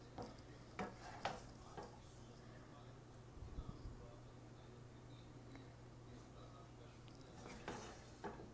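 Cooked chicken and vegetable noodles being dished out, with scattered clinks and scrapes of metal utensils against a pan and plate over a low steady hum, fairly faint and sparse.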